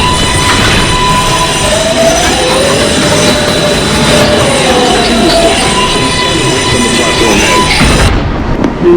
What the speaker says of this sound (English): This is a Pelham Bay Park-bound 6 train making express stops in the Bronx